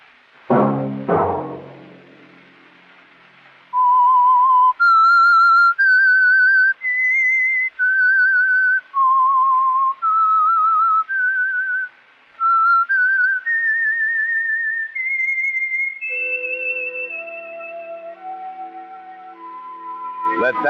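A lone whistler carries a slow melody of sustained, slightly wavering notes after a brief low thump, ending with a quicker descending run.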